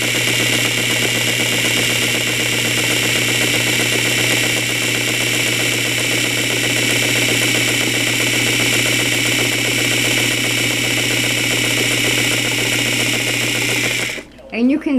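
A sewing machine runs a continuous straight basting stitch through fabric, giving a loud, steady, close mechanical whir that ends abruptly near the finish.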